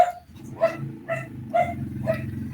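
A dog barks repeatedly at a passing motorcycle, about five sharp yelping barks in a steady rhythm, fairly close, with a low engine drone running underneath.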